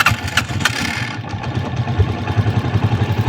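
A motorcycle engine idles steadily in a driving-lesson setting in Abidjan, its low, rapid pulsing thrum holding close and even, with a brief burst of higher clatter at the start before settling into a regular putter.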